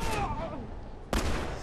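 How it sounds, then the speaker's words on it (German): Gunfire in the video game The Last of Us Remastered, two loud booming shots with a long decaying tail between them, dense and close over game background noise. "So, einen Schuss hat er schon mal gekriegt."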